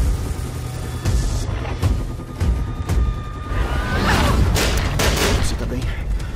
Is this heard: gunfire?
yes